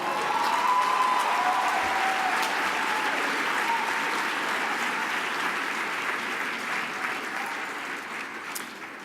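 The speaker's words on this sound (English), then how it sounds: "I want you to just clap and cheer as loudly as you can" An awards gala audience claps and cheers steadily for about nine seconds, a dense, even wash of applause with occasional whoops, at moderate level throughout and slowly easing toward the end.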